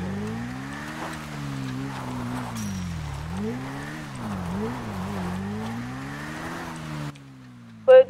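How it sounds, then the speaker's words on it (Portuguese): Motorcycle in a roleplay video game running as a steady droning engine that rises and dips while it passes, quite loud and close, ending abruptly with a short bright blip. "Foi tu que passou de moto aqui agora"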